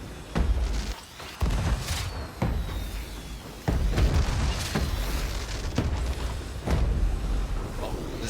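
A fireworks finale in the pirate video game Sea of Thieves sends repeated booming bursts at irregular intervals, each sharp crack trailing into crackle, while a voice talks in between.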